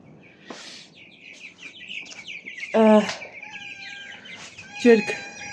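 Chickens cluck and squawk close by, with a few louder bursts of calls and higher chirps in between, against a quiet background.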